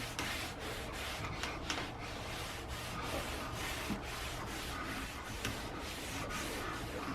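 A cloth rubs linseed oil into the wooden handle of a garden tool with steady, repeated back-and-forth strokes, a soft, close scratchy rubbing that goes on without pause and without speech.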